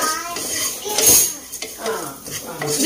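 A spoon scrapes and clatters against a cooking pan while masala is stirred for a beef roast, with brief metallic knocks and some faint background voices.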